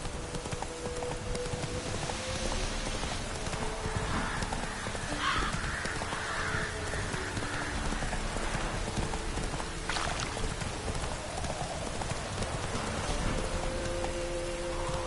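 Horse hooves pound steadily through a rainy setting in The Witcher 3 video game, the galloping mount heard continuously over a wash of falling rain, with a brief whinny-like accent midway.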